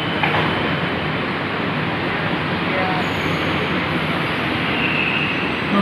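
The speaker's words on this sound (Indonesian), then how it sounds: "ada berangkat ini yang kereta dari Cikoko berangkat ke Jatimulya" LRT Jabodebek light-rail train at Cikoko station, a steady broadband rumble and hiss of the train running alongside the platform, loud and continuous throughout with no clear pauses.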